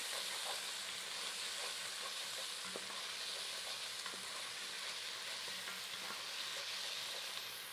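Squash frying in a pan gives a constant bright hiss and crackle, close and even throughout, with a couple of soft clicks and no talk.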